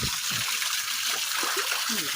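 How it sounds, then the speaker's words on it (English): Steady rushing and splashing of water running over icy rocks at a small waterfall, close and continuous, with low voices underneath. "Water's starting to run."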